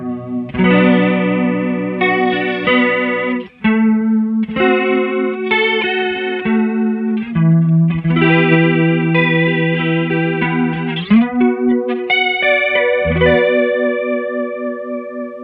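Guitar through a 2015 Madbean Pork Barrel DIY analog chorus pedal with the rate set to maximum: loud, warbly, fast-wobbling chords and single notes played alone, with no voices.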